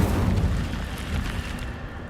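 A roaring burst from the Incendio fire spell in Hogwarts Legacy, one loud, dense blast that rumbles steadily for about two seconds with no voices.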